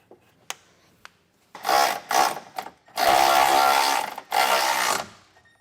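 Nuts being reinstalled on a Curt trailer hitch receiver bracket on a 2023 Chevrolet Colorado, with a few light metallic clicks followed by several loud bursts of a power tool whirring, the longest lasting over a second.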